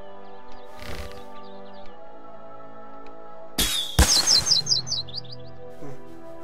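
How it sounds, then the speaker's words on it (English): Bird chirps and tweets in South Park: The Stick of Truth video game, scattered thin calls early followed by a sharp burst and a rapid run of chirps with flapping, fairly close and loud. "There's a bird up there."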